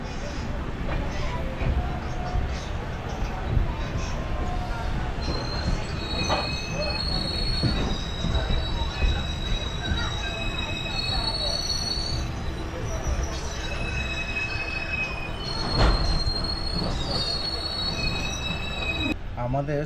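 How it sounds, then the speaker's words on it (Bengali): An intercity train passes at length with loud, sustained high-pitched wheel squeals over a steady rumble of rolling railcars, heard from an express halted alongside. "আমাদের সুপারফাস্ট এক্সপ্রেসটাকে দাঁড় করিয়ে রেখেছে এই ইন্টারসিটিটাকে পাস করার জন্য।"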